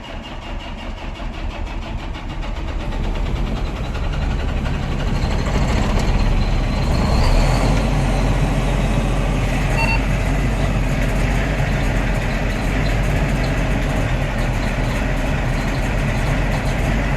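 A cold farm engine turning over, a sustained low rumbling drone that steadies into a rough running or cranking noise throughout, fairly loud and close with no talk.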